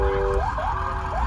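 A wailing emergency siren sweeps up and down loudly over a steady background rumble, close by and continuous with no talk.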